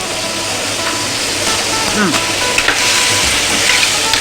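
Seafood spaghetti frying in a pan, a loud, steady sizzle and hiss with faint stirring scrapes running throughout, a voice talking softly underneath.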